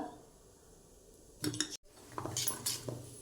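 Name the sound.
stirring dhokla batter in a bowl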